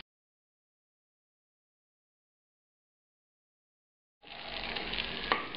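Duck fries in its own fat in a pan over medium heat. After a long silence a steady close sizzle starts suddenly and keeps going to the end, with one small sharp pop near the finish.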